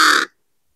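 A hungry young crow gives a single loud, harsh caw that cuts off after about a quarter second, close and clear, with nothing else around it.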